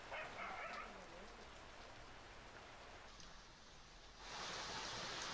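Heavy monsoon rain falls steadily in rural Maharashtra, a dense, hissing wash across the whole stretch that swells louder toward the end, with no clear talk.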